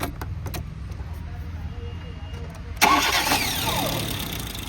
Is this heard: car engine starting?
yes